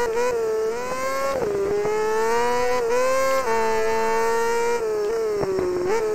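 600cc racing motorcycle engines scream at high revs during a superbike race, a loud, sustained whine that rises and dips repeatedly as gears change.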